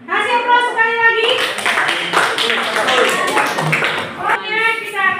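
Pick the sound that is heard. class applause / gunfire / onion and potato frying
class applause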